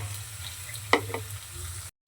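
A steady low sizzle of chicken chowmein stir-frying in soybean oil, broken by a single sharp utensil scrape against the pan, before the sound cuts off abruptly.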